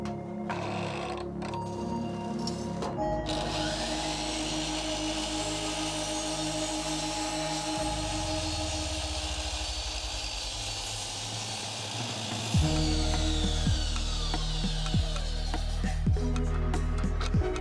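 A power saw whines steadily as it cuts through wood for several seconds, with motor pitch shifting and a louder stretch near the end.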